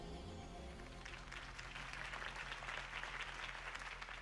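A crowd in Batman: The Telltale Series applauds after a campaign speech for Harvey Dent, quiet at first, then a dense wash of clapping builds and holds steadily over a low musical hum.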